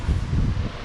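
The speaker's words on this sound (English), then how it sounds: "Sorry for the fan noise." A steady whooshing hum of a running fan fills the space, loud and close, with a low rumbling texture and no speech.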